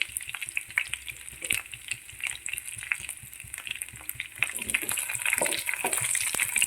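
Curry leaves, ginger and shallots sautéing in a pan for tomato chutney, a steady crackling sizzle with scattered pops that grows fuller and louder toward the end.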